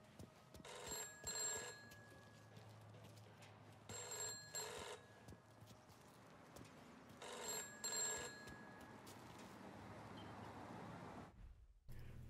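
A telephone booth bell in the Mafia Remake video game rings in three separate double-burst rings, loud and steady over low ambient rumble, and then the background cuts off.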